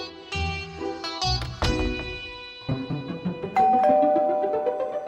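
A doorbell rings several times in quick succession, bright chiming tones overlapping and ringing out, close and fairly loud.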